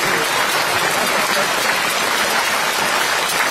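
An audience at a Peking Opera concert applauding warmly, a dense, steady wash of clapping held at constant loudness throughout with no break.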